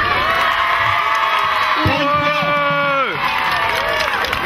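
Crowd at the Sarcelles town carnival cheering and whooping, with children shouting, a loud continuous mass of voices that swells into a burst of cheering midway.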